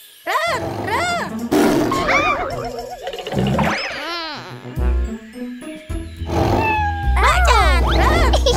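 Children's sing-along nursery rhyme about animals dancing, where a voice imitates a tiger's roar several times between sung lines over bright backing music, loud and close.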